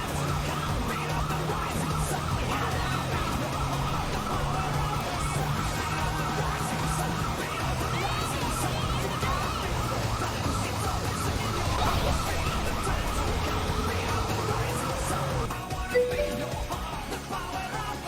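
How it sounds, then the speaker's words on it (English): A video game police car siren wails continuously for a long stretch, its pitch sweeping up and down over steady engine and road noise, with no talking. "you get to use your actual siren on your police car"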